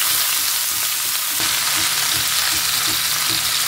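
Sliced bitter gourd frying in about one and a half tablespoons of coconut oil in a pan, a loud, steady sizzle with faint stirring knocks underneath and no talking.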